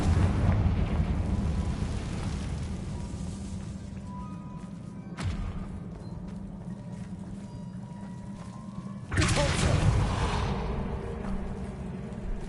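A Confringo fire spell explodes in Hogwarts Legacy, giving a sudden booming burst over a low rumbling ambience, then another heavier blast that swells and lingers.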